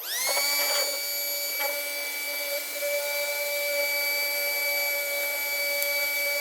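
A 12-inch pusher fan runs with a steady, even whir, its constant tone holding level for the whole stretch with a few faint clicks or knocks along the way.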